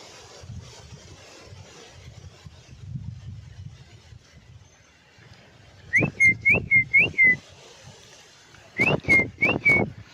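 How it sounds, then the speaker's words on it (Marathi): Two bursts of rising, chirpy human whistles, three or four quick notes each, loud and close over a low engine-like rumble in the background. "शिट्टी मारली तर लगेच आपलं पक्षी यायला लागले बघा"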